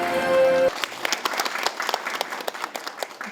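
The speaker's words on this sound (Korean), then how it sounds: "따뜻한 박수로 한번 맞이해 주시기 바랍니다." An audience at a Gyeongbuk airport air-logistics policy forum breaks into warm applause for a presenter. A brief tone gives way to a dense burst of clapping that thins out and continues steadily.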